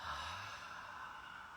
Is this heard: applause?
no